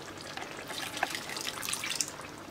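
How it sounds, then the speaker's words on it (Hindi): Water poured into dhaba-style dal fry as it cooks, a soft, continuous splashing trickle with a few brighter drips, fairly faint and with no talking. "तो मैं ये पानी डाल देती हूँ"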